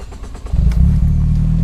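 A Morgan Plus 4 with a 2.0 GDi engine cranks and catches after half a second of clicking, then settles into a loud, steady idle rumble close by.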